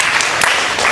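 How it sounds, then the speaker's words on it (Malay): An audience at a talk on 1990s rock song lyrics claps together in a steady, dense burst of applause that fills the whole moment. "Okey, tepuk tangan kepada Rosli."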